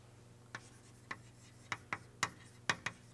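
Numbers are written down by hand during a pre-algebra fractions lesson, giving about seven short sharp tapping and scratching strokes at irregular intervals, close but faint against a quiet background hum.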